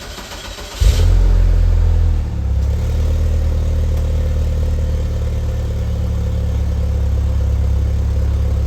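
A car with paddle shifters starts and drives at night, its engine running loud and close with a steady mid-pitched drone after an initial rise in revs; no one speaks.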